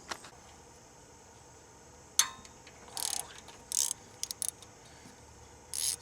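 A ratchet loosens a bolt on a Grand Am engine during teardown, giving several short bursts of clicking, some single and some rapid runs, fairly close and without talk.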